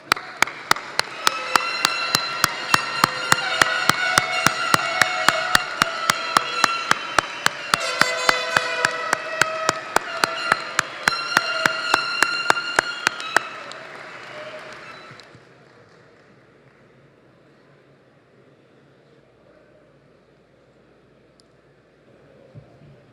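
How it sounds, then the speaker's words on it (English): An audience at a trade union apprentice and instructor graduation ceremony applauds the graduates with steady, dense clapping that stops abruptly, leaving a quiet room. "Let's give them all a round of applause"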